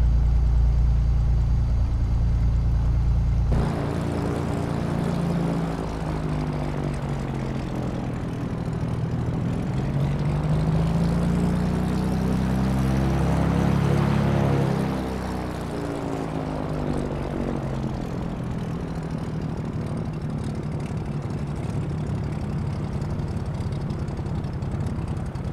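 A simulated Piper Turbo Arrow propeller engine drones steadily while taxiing in Flight Simulator 2020, loud and close, with a change in tone early on and a slow rise and fall in pitch across the run.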